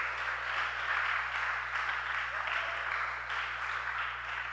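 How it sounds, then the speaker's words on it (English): An audience at a poetry slam in Trinidad and Tobago claps steadily, a broad wash of applause that holds at an even, moderately distant level throughout without voices on top. "Let me give these judges a round of applause."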